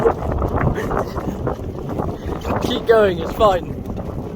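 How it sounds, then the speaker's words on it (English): Heavy wind buffeting the microphone with a constant low rumble, while a person speaks briefly and a high whistling tone rises and falls. "Now as you can hear, it's really windy"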